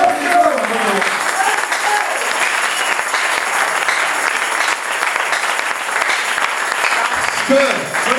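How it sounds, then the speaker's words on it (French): A church congregation applauds during a French sermon, with sustained dense clapping that holds steady and loud for several seconds, and a voice speaks briefly at the start and near the end. "Applaudissez pour le Seigneur."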